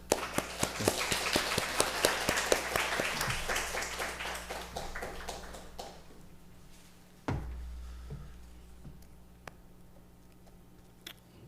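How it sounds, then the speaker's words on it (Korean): Lively applause from a church congregation at a Sunday service in Subic, Philippines, many hands clapping steadily, then fading out into a quiet room with a single thump. "우리 환영의 박수 한번."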